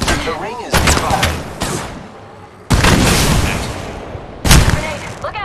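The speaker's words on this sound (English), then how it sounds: "The enemies are shooting at me." Gunfire from a battle royale video game erupts in loud, dense bursts of shots and booms, separated by brief lulls, with a third burst landing near the end.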